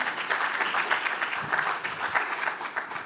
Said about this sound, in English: A big round of applause for Olta